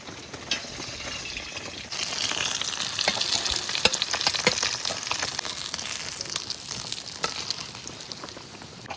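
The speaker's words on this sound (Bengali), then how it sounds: "মাছ ভাজা হয়ে গেছে, এবার তুলে নেবো।" Fresh river bata fish frying in a pan, giving a continuous close crackling sizzle with dense popping spatter that grows louder after the first two seconds and keeps going steadily with no talking.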